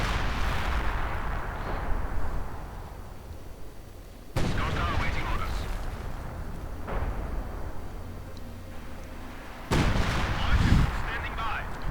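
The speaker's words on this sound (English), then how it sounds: "suffering very heavily under an intense Soviet barrage" Soviet artillery barrage in Company of Heroes 2, heavy booming impacts and rumbling blasts with sharp onsets around the middle and near the end, continuous loud battle noise underneath, a commentator's voice partly mixed in.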